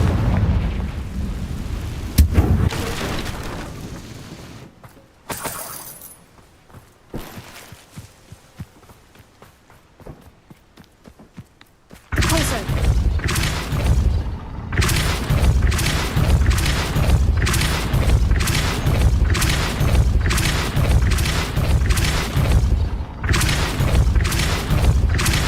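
Confringo blasting curse explosions in Hogwarts Legacy: a few heavy booming blasts early on, a quieter lull, then a long run of loud, rapid repeated detonations crowding one after another near at hand.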